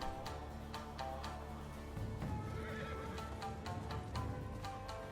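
A horse neighs in a long whinny over a rumbling, music-backed soundscape from a video game trailer, with scattered hoof clip-clops and sharp hits alongside.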